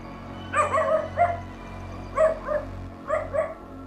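A dog barks in three short clusters of two or three sharp barks each, moderately near over a low steady background hum, with no talking.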